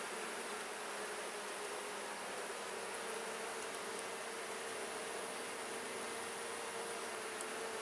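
Honey bees buzz around an open hive during a frame inspection, a dense, steady hum of many insects filling the air at moderate level with no voices.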